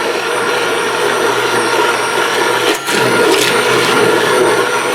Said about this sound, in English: So now I'm just going to hit this with the immersion blender.